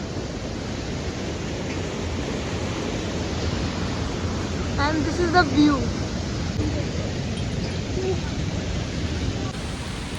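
Small waterfalls along a mountain trekking trail make a steady, broad rushing hiss that stays even from start to finish, while a person speaks briefly partway through.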